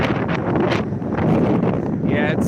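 Gusty wind buffets a microphone outdoors on a cold night outside an old manor in Pennsylvania, a loud rushing roar that persists throughout with brief flutters.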